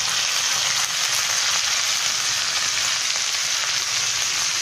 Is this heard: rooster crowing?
no